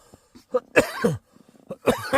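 A few short, harsh coughs in quick succession, close and fairly loud, with brief quiet gaps between them.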